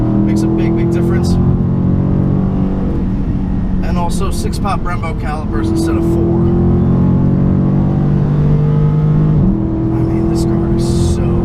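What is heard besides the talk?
2017 Dodge Charger SRT 392 6.4L engine accelerating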